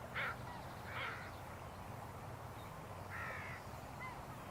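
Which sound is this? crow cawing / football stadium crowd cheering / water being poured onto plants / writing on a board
crow cawing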